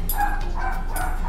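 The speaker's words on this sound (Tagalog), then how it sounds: "Ang galit na aso." An angry dog barks several times in quick succession against a steady background hum. The barks are moderately loud and close, and nobody talks.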